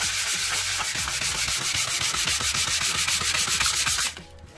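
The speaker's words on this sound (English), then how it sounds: "if you're trying to sand something that you don't want big grooves in, especially with resin" Steady, close rasping of sandpaper worked back and forth over a cured resin countertop, rhythmic rubbing strokes heard alone before stopping abruptly near the end.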